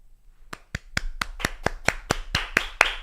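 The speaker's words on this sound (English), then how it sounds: "Want to make sure that clapping came through." A small audience claps in a steady run of about ten sharp, separate claps. The claps start sparse and come faster and louder toward the end, with no talking.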